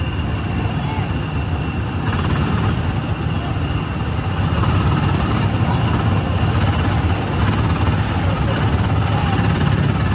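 A small ride car on the Tomorrowland Speedway at Magic Kingdom putters along with a loud, continuous rattling engine buzz, steady throughout and close, with people talking over it.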